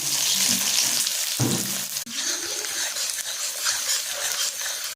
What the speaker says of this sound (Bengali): তেলটা গরম হয়ে গেছে, তেজপাতা দিয়ে দিব, পেঁয়াজ দিয়ে দিব।